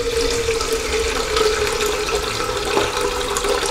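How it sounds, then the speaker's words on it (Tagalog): Tap water runs steadily into a small kettle for a single cup of coffee, a continuous close splashing rush with no talking. "So lalagyan natin siya ng tubig, itong takore."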